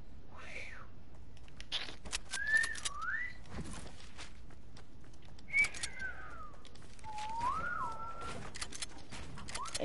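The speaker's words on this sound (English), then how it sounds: "stop whistling" A person whistles several short, sliding melodic phrases at moderate loudness, with pauses between them, over a steady background hiss and scattered soft knocks.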